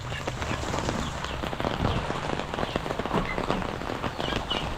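Heavy habagat monsoon downpour crackles steadily close by, with dense spattering drops striking surfaces throughout and no one talking.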